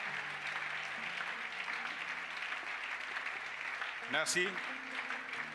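A church congregation claps during a worship service, a steady broad wash of applause that carries on throughout, with a single voice speaking a brief word of thanks near the end.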